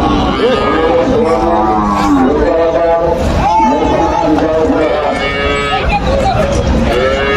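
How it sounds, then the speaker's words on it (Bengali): Indian bullocks at a busy cattle market in Joypurhat, Bangladesh, lowing repeatedly nearby, several drawn-out moos overlapping with crowd chatter and people talking throughout. "এগুলো বেশিরভাগ ইন্ডিয়ান বলদ গরু, ইন্ডিয়ান কালেকশনই বেশি হয়ে থাকে।"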